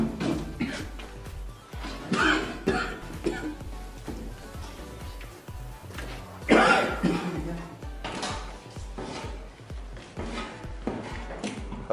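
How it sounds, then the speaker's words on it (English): Repeated coughing comes in several bursts, one especially loud and close, mixed with shuffling noises and some voices in the background. "Have you noticed the coughing you are doing?"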